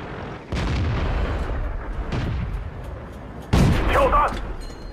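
Shells strike and glance off armor during a World of Tanks battle with an M5A1 Stuart light tank: three loud, sharp impacts, each with a rumbling decay. The last one carries a brief metallic ringing whine.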